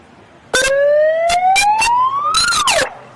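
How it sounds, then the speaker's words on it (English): A loud megaphone siren at a street demonstration outside Lewisham police station whoops upward in a rising wail, crackling and stuttering, then sweeps down and cuts off after about two and a half seconds. "How do I turn off the siren, please?"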